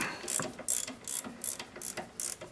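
Ratchet wrench tightening front brake caliper bolts on a Ford Escort ZX2, a series of quick close clicking bursts in a steady rhythm, about seven strokes, with no talking.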